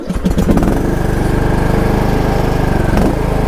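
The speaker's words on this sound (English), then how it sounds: "I gotta get the lawnmower started." A lawnmower engine started after sitting for weeks in the cold catches quickly and settles into a loud, close, steady chugging idle with rapid even pulses and no talk.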